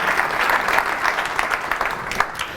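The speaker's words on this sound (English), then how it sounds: "Give him a round of applause." An audience at a young men of color conference gives a round of applause, steady dense clapping filling the hall for a couple of seconds, with no talk over it.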